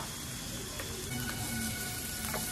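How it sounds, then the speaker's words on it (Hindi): Garlic, ginger, green chili and amla fry in a pan with a steady, dense sizzle and occasional soft stirring scrapes throughout. "लहसुन के छोटे टुकड़े अच्छे से भूनेंगे थोड़े से और अदरक के टुकड़े हरी मिर्च"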